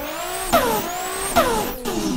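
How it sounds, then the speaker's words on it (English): A Nissan S15 race car in a racing video game revs hard on the Yas Marina circuit, its loud engine climbing in pitch, dropping sharply at each gear shift and climbing again, three times in a row. "This car is insanely loud"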